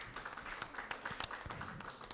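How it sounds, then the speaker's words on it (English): Scattered audience claps at a Furaha City press conference greeting Tanzanian artist Rayvanny: sparse, uneven hand claps, fairly faint and somewhat distant, with a few sharper slaps standing out against a thin background. "a big round of applause for Rayvanny"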